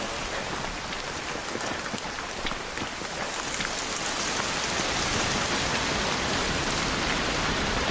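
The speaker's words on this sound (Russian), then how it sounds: "Можно звук дождя выключить?" Constant rain in the video game Arc Raiders, a dense, even hiss of falling drops that stays loud and unbroken throughout, with no voices.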